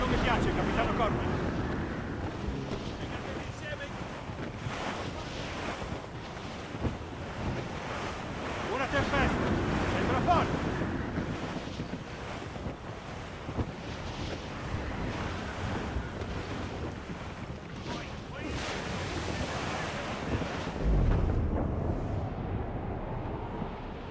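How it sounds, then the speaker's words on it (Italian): Wind and ocean waves at sea in the video game Assassin's Creed Rogue, a steady loud roar of surf and gusting wind across the whole stretch, with a heavier wave surge near the end and faint talk underneath. "Il vento non mi piace, Capitano Corbin."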